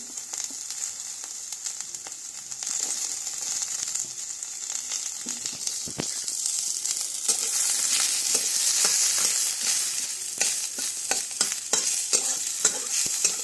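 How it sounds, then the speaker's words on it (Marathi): Chopped onion fries in a pan with a continuous bright sizzle. Frequent crackles and stirring scrapes sit over it at close range, and no one speaks. "तर आता कांदा टाकलेला आहे भाजायला"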